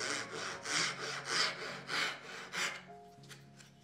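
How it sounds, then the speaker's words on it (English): A handsaw cuts a haunch for a mortise and tenon joint in wood, with about seven rhythmic rasping back-and-forth strokes, close and clear, then a few light knocks as the sawing stops. "we'll cut that using the handsaw here"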